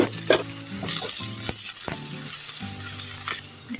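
Chopped onion sizzling in olive oil in a frying pan, a steady close hiss with a few sharp clinks of a utensil against the pan and low tonal hum underneath.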